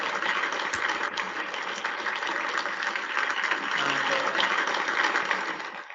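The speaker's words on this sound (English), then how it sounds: "A huge round of applause to you." Audience applause at a student award ceremony, a dense sustained wash of many hands clapping, steady and fairly loud throughout before tapering off at the end.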